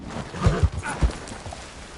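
A few heavy hoof thuds from a horse in Red Dead Redemption 2, spaced and uneven, close and moderately loud against a quiet background.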